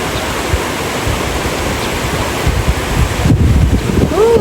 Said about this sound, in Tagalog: Mahangin po. Napakaginhawa.